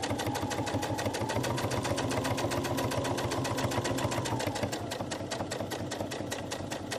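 Sewing machine stitching steadily over elastic on a fabric cable wrap, a fast even mechanical chatter of needle strokes with a low motor hum, continuous and close for the whole stretch.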